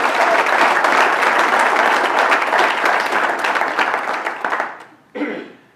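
Audience applause during a State of the City address in Moreno Valley, a broad, loud clapping from a large crowd that holds steady, thins out and stops, then a brief final burst.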